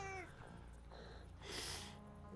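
Mariner Kitty, a pet cat, gives a short, fairly quiet meow near the start, followed by a brief breathy burst of noise, all over a low room hum with no talk.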